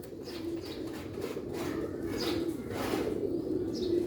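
Several pigeons, show birds bred for results, coo in a low, steady murmur that runs without a break, joined now and then by faint higher chirps and a little wing movement, moderately close with no talking.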